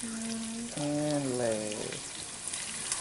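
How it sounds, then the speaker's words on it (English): Food laid by hand into a hot pan sizzles with a steady hiss, while a voice speaks briefly over the frying near the start. "so we got that frying up"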